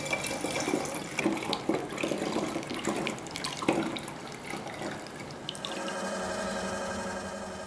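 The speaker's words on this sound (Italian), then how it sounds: "Mettiamo nella bottiglia questa prima parte di latte." Homemade almond milk pours into a bottle as a steady liquid stream, trickling and splashing close by with some drips, and the flow turns smoother and more even near the end.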